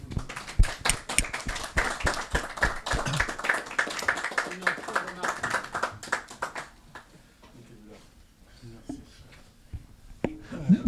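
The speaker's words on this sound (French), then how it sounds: "Sous vos applaudissements." Clapping from a small audience at a book talk, a few seconds of dense, close handclaps that thin out and stop, followed by quiet room sound with occasional murmurs and movement.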